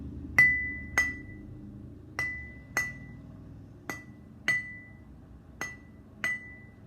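Eight single strikes on water-filled glasses, each ringing out with a bright, clear tone that fades quickly, spaced about a second apart and heard close up.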